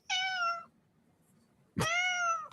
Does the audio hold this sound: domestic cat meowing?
yes